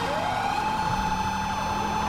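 Police siren from a golf-cart police car in GTA 5, a loud continuous wailing tone that holds steady and close for about two seconds, with rumbling game noise underneath.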